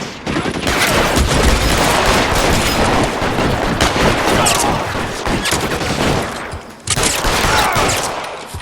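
Dense bursts of gunfire from the L.A. Noire video game rattle almost continuously, loud and sharp, with a short break before another volley near the end.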